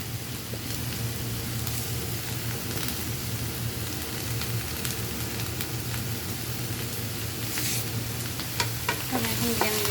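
Okra fries in a pan with green chilies and onion, a constant crackling sizzle, punctuated by stirring scrapes and clinks toward the end.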